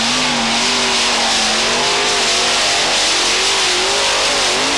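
Modified tractor-pulling machine powered by four Chevy 527 engines at a 1995 European tractor pull in Hörby, Sweden, a loud, sustained roar with wavering revs throughout the run, unbroken by speech.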